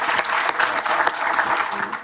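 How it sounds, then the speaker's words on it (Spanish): An audience at a science panel on transgenic crops claps for a speaker, a short burst of lively, dense applause at close range. "Le damos un aplauso a Manuel Tironi"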